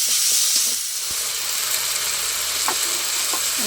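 Ground chilli, coriander and cumin spices frying in a pan with gram flour, a loud, dense hiss of sizzling oil with a few faint spatula taps underneath, close by.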